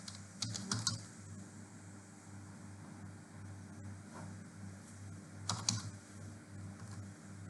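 Quiet bursts of typing on a computer keyboard, two short flurries of clicking keys separated by a low steady background hum.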